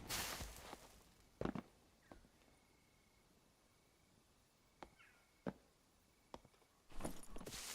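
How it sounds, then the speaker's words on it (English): Sparse footsteps inside the dark fantasy dungeon game Dark and Darker: a few isolated, sharp steps scattered across a quiet stretch, faint and distant, with a louder burst of movement near the end and no talk. "I could have sworn I heard a footstep."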